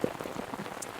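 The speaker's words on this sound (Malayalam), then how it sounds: "ഒരു ഉച്ച കഴിഞ്ഞ് കഴിഞ്ഞാൽ നമ്മുടെ നാട്ടിൽ ഭയങ്കര മഴയാണ്." Heavy monsoon rain pouring down in Kerala, a steady dense hiss of drops drumming on surfaces, close and continuous with no voices.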